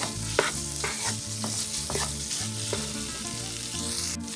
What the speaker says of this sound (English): we're just going to mix our tomato paste until it's well combined throughout